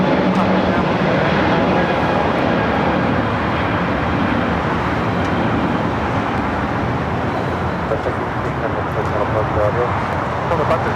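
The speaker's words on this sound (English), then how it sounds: "This is Virgin Atlantic Flight 8 taking off to London Heathrow on the A350 1000." A Virgin Atlantic Airbus A350-1000 takes off from LAX, a broad steady engine roar at constant loudness throughout, with voices talking over it.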